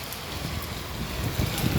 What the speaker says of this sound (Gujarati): જો વરસાદ પડે જામનગર શહેરમાં